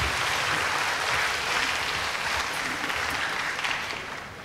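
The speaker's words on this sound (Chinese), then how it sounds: "掌声欢迎。" Audience applause at a school event welcoming the principal to the stage, a broad steady clatter of many hands that holds even and then fades toward the end.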